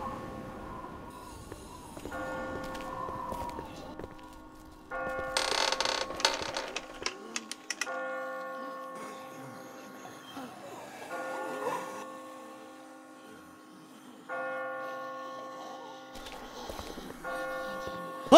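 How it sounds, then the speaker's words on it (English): Church bells ring repeatedly in The Walking Dead video game, sustained tolling tones rising and fading across the scene amid creaks and low background ambience. "I just got spooked by those bells"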